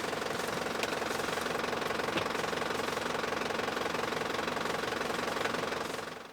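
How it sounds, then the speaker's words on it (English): A boat engine that will not shut off because of a loose solenoid idles with a steady, rough knocking rumble that holds constant for several seconds before trailing off at the end. "So we still can't turn off the engine?"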